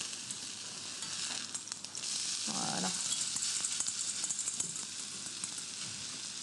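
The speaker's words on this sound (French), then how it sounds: "Vous pouvez me remuer un petit peu la sauce?" Orange gastrique sauce for duck breast bubbles and sizzles steadily in a hot pan while it is stirred, with brief scraping and a short spoken word over the constant frying noise.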